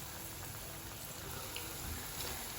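Cassava fritters fry in hot oil with a faint, steady hiss and soft crackle, a constant sizzle with no distinct pops and no one talking.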